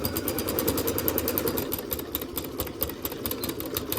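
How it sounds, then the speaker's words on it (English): Sewing machine stitching a back stitch on a fabric heart mug rug, with a close, steady rapid mechanical whir and clatter of the needle throughout, no talking. "get my presser foot down here, and I'm going to do a little back stitch"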